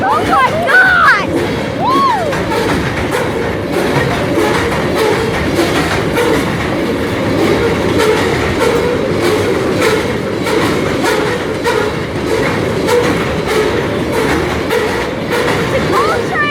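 A coal train rolls past close by with steady, loud rumbling and rhythmic clickety-clack of wheels over rail joints, and brief squeals here and there; excited voices shout over the continuous noise.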